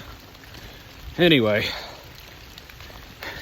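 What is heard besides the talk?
rain falling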